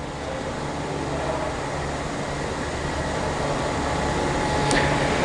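A 480-F spin rinse dryer runs while drying wafers, giving a loud, constant mechanical whir and hum that holds steady throughout.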